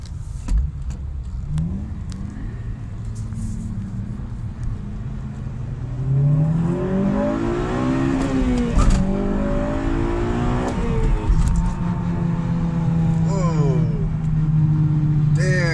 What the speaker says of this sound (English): The transmission sounds like shit when I let off the gas.